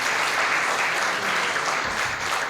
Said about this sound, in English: A loud round of applause for Dr.